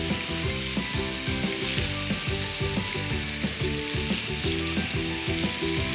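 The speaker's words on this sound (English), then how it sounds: "Watch them sizzle." Pork halves fry in a pot with a loud, steady sizzle and crackle, dense and continuous throughout with no voices over it.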